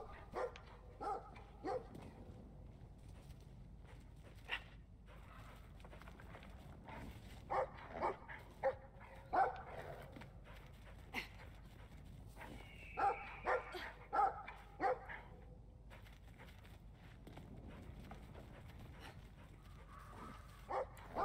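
A dog in the video game Brothers: A Tale of Two Sons barks and yips faintly in scattered short bursts, quiet and somewhat distant against a low background.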